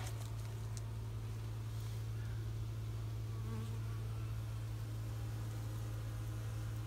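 Honeybees buzz in a steady, dense drone at an open beehive during spring feeding with pollen patties and sugar water, the hum continuous and close throughout.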